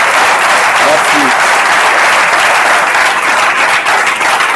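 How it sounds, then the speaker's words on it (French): Loud, steady applause from a political rally audience for a parliamentary candidate in Lubumbashi, dense clapping filling the whole stretch without a break. "Est-ce qu'on peut l'applaudir?"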